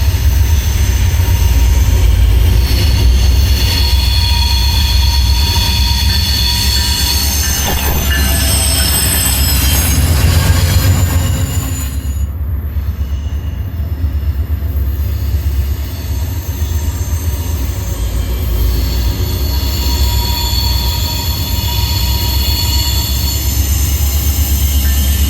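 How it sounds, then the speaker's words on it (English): A CSX SD40 freight locomotive hauling an Amtrak passenger train rumbles past with heavy low drone, steady wheel noise and loud sustained wheel squeal, close and continuous with no voices. "The sight of a CSX SD40 hauling an Amtrak train was"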